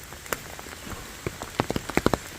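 Rain falls on an umbrella during a walk in New York, with scattered drops tapping close and quiet over soft background hiss, growing into a quicker run of patters near the end.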